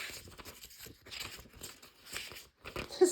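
Crisp, thin Hobonichi planner paper rustling and crinkling in several bursts, close up, with short pauses between and a sharper crackle at the end.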